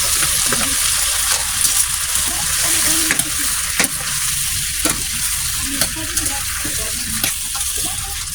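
Sponge gourd and okra stir-fry in a hot pan with a steady, close sizzle. A utensil scrapes and clicks against the pan at irregular intervals, and no one speaks.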